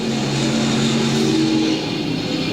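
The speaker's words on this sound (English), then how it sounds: "foot to the floor, the engines roar. Here come the factory stocks" Factory stock race cars roar past at Lakeside Speedway, a loud, steady engine drone with sustained revving tones that drop slightly near the end.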